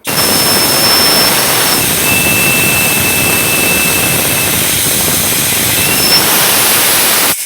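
Compressed air hisses loudly and steadily through the port of an LS cylinder head being ported for nitrous, a continuous close rushing noise with faint whistling tones.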